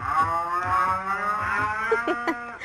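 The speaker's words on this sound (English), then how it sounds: "We have more cows." A cow moos in a long, drawn-out call with rich harmonic tones, fairly close and steady, followed by a few shorter lowing sounds near the end.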